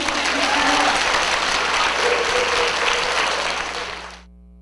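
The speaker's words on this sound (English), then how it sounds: "Give Mr. Moore a round of applause" Schoolchildren at School No. 29 in Rochester applaud for Mr. Moore during a Miss America visit, a loud sustained round of crowd clapping that fades out at the end.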